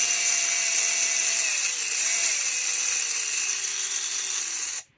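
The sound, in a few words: RC car motor running at full throttle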